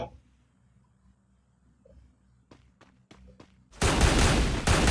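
Gunfire in the mobile battle royale game Free Fire, solo ranked mode: a few faint sharp shots in quick succession, then a loud sustained burst of automatic fire close by, alone.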